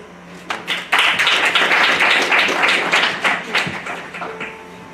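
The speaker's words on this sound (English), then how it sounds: "Let us give them another hand clap in the name of Jesus" A church congregation at a memorial service breaks into dense, sustained hand clapping that swells quickly, holds for several seconds, then thins out.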